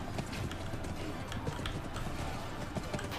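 Horse hooves galloping in the medieval battle game Blood of Steel, a busy continuous clatter of clip-clop beats mixed into dense battlefield noise, with faint voices underneath.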